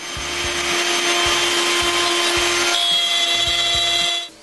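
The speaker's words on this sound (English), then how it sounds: "I need to put grooves inside the top and bottom rail for the cabinet maker's buttons" Router cutting grooves into the top and bottom rails of a wooden cabinet frame, a loud steady high whine with repeated low thumps as each pass is fed, then the motor cuts off near the end.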